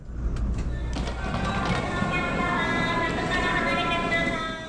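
Steady rumble of a Japanese bullet train bound for Hakata at a station, with tonal hum and faint announcement-like tones, moderately loud and continuous.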